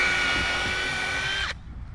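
A power drill pre-drills a short hole in a wooden board for an arbor built from pallets and 2x6 lumber, a loud steady whine that cuts off abruptly after about one and a half seconds, followed by quiet.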